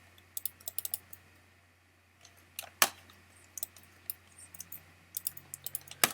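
Quick bursts of clicky keystrokes on a computer keyboard, close and fairly quiet, with a short pause before several more irregular clusters of taps as a command is typed into a Linux terminal.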